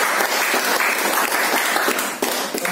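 An audience at a book launch claps in a burst of dense applause, loud and close, lasting a few seconds with no voices over it.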